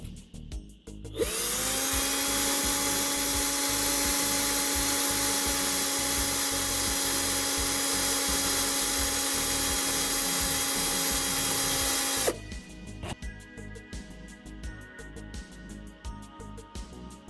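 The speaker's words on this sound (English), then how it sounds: "Just attached it to my cordless drill." A cordless drill spins model tank wheels from a Dragon Tiger I kit to clean them. After a short pause it rises into a loud, steady motor whine that holds for about eleven seconds, then cuts off abruptly.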